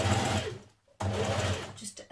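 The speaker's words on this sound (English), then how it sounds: "So now you want a line of top stitching all the way along your yoke." A sewing machine runs top stitching along a ladies' shirt yoke, two close, loud bursts of rapid stitching split by a brief pause.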